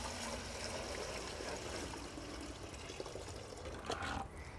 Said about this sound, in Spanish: Le vamos a poner agua hasta la mitad aproximadamente.